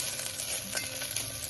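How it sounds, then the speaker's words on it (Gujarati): Soaked sago pearls (sabudana) sauté in a pan with a soft, even sizzle and light scraping of stirring, quiet and close. "હવે આપણે સાબુદાણાને આ રીતે 1 થી 2 મિનિટ માટે સાંતળી લઈશું"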